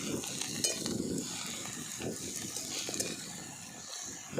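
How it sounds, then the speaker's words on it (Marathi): Hadga flowers and onion sauté in a pan, soft sizzling mixed with irregular scraping and stirring clicks of a utensil, moderately quiet and close, with no voices. "चांगले फुलं परतून घ्यायचे"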